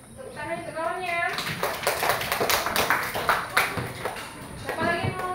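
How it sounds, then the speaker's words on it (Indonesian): A classroom of children applauds a classmate with a burst of scattered, uneven hand claps that rises and falls, with talk and children's voices heard throughout. "Tepuk tangan untuk kawannya."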